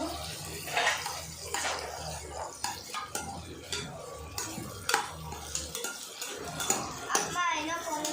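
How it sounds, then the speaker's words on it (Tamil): Food gets mixed in a metal pot, with repeated clanks and scrapes of a utensil against the sides, irregular and close, while a voice talks intermittently over the stirring. "நல்லா மிக்ஸ் பண்ணிக்கணும்"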